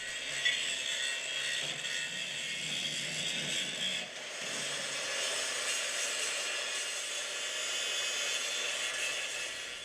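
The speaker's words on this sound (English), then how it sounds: "Now that I get in and ground this down a little bit with the small angle grinder" A small angle grinder grinds down a metal plate for a rally car's control arm mount, giving a steady, continuous high-pitched whine that holds level throughout with a brief dip midway.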